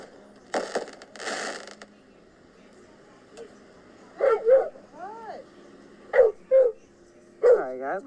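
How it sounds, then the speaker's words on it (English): A dog barks and yelps in short bursts of two or three near the microphone during a fireworks show, following a couple of rough, crackling noises at the start. "my dog is not gonna be quiet"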